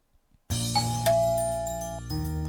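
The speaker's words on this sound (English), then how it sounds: "The sound of a doorbell is elegant and sincere." A doorbell chime in a dating video game, a bright two-tone ding-dong that rings out clearly after a brief silence and sustains with a shimmering tail, loud and alone.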